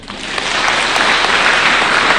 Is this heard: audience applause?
yes